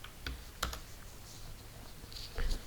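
Light typing on a computer keyboard, entering coordinate numbers, gives a few scattered, faint key clicks against a quiet room hum, with no voices.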